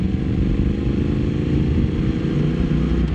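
Triumph Speed Twin motorcycle engine running in road riding mode, a loud, close, continuous low rumble with no speech over it.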